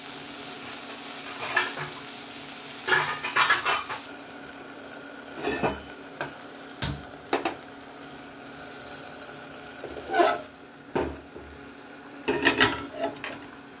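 Appam batter poured onto a hot, oiled dosa griddle sizzles in short, intermittent bursts that rise and fade against a low, steady background hum, with occasional light clatter nearby.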